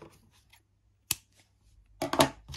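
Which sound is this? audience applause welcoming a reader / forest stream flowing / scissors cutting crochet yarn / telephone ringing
scissors cutting crochet yarn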